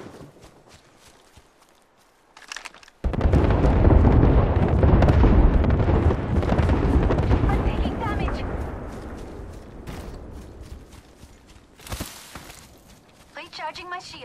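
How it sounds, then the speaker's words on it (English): Airstrike explosions in Apex Legends: a sudden heavy blast kicks off a long, loud rumbling barrage of booms that gradually tapers, with a further sharp burst near the end and brief voice lines from the game. "We've got an airstrike coming in."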